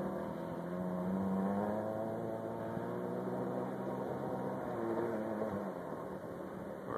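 A Jeep drives over sand at a future town lake subdivision near Cypress, its engine droning steadily and close with slight rises and dips in revs, no talking.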